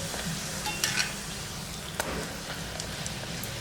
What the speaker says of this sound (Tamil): நல்ல சூடாக இருக்க எண்ணெயில் இந்த தேய்ச்ச பூரியை போட்டு எடுத்துடலாம்.